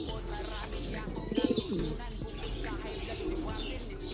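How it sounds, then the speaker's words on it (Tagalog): Pigeons coo softly while pecking at red grit, a low burbling coo rising briefly in the middle over faint background chirps and rustle. "Nagbigay ako ng redstone sa mga kalapate ko."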